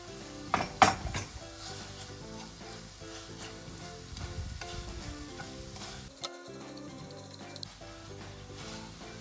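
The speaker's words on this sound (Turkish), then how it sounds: "Artık sos karamelize olmaya başladı zaten tavada." Tteokbokki sauce sizzling and caramelizing in a pan with sesame oil, a soft steady frying hiss broken by a few louder clinks and stirring scrapes of a utensil against the pan.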